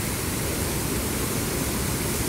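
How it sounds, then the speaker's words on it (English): A powerful waterfall in Norway roars as a steady, dense, hissing wash of falling water that fills the scene without any voices. "Norway's waterfall is magnificent in a different way"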